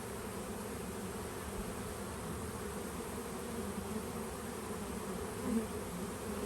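Dense, steady buzzing of many honey bees swarming close around a beekeeper's gloved hands during a package installation, a continuous drone with no voices.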